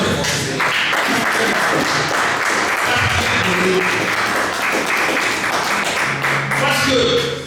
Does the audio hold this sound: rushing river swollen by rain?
no